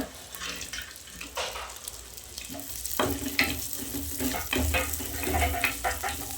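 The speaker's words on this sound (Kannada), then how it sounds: "ಇವೆಲ್ಲ ತುಪ್ಪದಲ್ಲಿ ಮೂರರಿಂದ ನಾಲ್ಕು ನಿಮಿಷ ಫ್ರೈ ಮಾಡ್ಕೋಬೇಕು" Pumpkin seeds and pistachios fry in ghee for a dry fruits laddu, giving a continuous close crackling sizzle with occasional stirring scrapes and pops.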